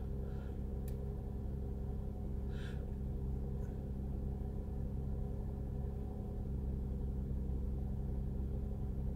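Car engine idling at high idle while warming up on a cold day, a steady low rumble that holds even throughout with no revving, heard up close and alone.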